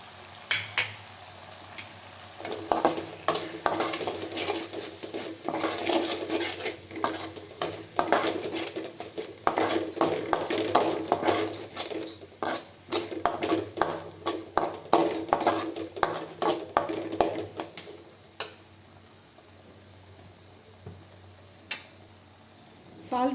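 Chicken with garam masala, chili and spices is stir-fried in a pan, with repeated clanks of a spatula against metal and a soft sizzle under a speaking voice, tapering to quieter scraping near the end.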